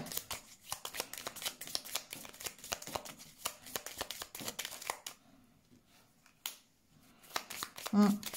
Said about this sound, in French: Je vais continuer à mettre quelques cartes quand même.